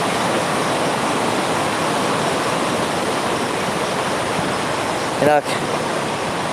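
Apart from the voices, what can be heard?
rushing water of the Varzob river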